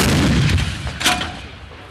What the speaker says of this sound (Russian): курсанты стреляли из противотанковых пушек МТ-12 «Рапира», гаубиц МСТА-Б и самоходных артиллерийских орудий «Хоста»